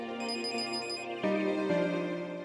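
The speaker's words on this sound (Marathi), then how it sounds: "बाबाचा फोन." A mobile phone ringtone plays for an incoming call, a bright melodic electronic tone sequence that shifts pitch partway through, close and clear, with no speech.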